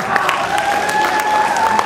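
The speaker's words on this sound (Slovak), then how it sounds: "Dajte mi jeden potlesk, aby sa im dobre hralo." An audience at a primary school performance claps together, a steady dense patter of applause with a few cheers mixed in.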